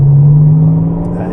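A supercar accelerates on the Rockingham track, its engine a steady, close drone that holds loud and slowly eases off over a second or so.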